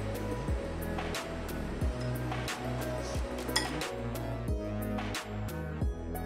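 Cabbage fritter batter for keto-style fritters being mixed in a bowl, a rhythmic run of repeated clinks and knocks against the bowl at a steady pace, close and moderately loud over a low background hum.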